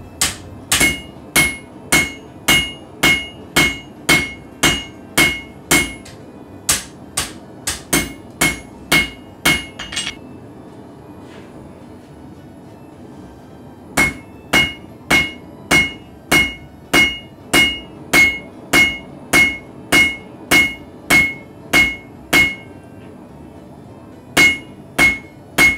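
A hammer forging and squaring a metal wand rings out in steady, evenly paced metallic blows, one long run, a short pause, then another rhythmic series, close and loud.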